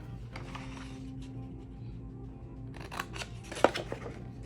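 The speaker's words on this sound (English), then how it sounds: "I'm also going to make a cut here, just one little snip there" Scissors snip paper while a handmade card and bookmark are cut, giving a few short crisp cuts with one louder snap near the end, close and alone over quiet room tone.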